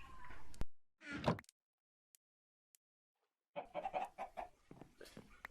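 Minecraft chickens clucking in a hardcore survival world, a few short clucking bursts separated by a stretch of near-silence, close and clear, with no talk.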